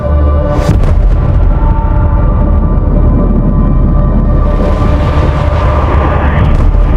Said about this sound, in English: A sonic boom in the night.